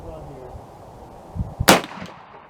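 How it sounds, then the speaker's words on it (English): A CVA Optima V2 .50 caliber muzzleloader rifle fires a single fouling shot loaded with 80 grains of homemade powder, one sharp loud report with a short trailing decay, heard outdoors with no talking. "Alright, fouling shot is done."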